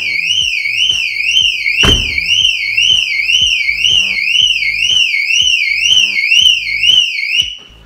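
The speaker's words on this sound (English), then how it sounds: "if you've got a factory alarm system, you'll know about it" A loud factory alarm on a VW Transporter van wails in a rapid rising-and-falling siren, steady and close, with a faint rhythmic clicking beneath, cutting off at the end.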